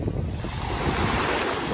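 Sea waves on the beach at Anapa on a rough day, a continuous loud rushing wash of surf mixed with wind buffeting the microphone, close and steady with no talking.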